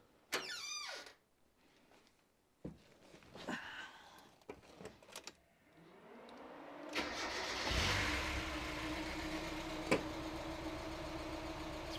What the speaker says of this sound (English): this car is ready to start up. So let's see what happens.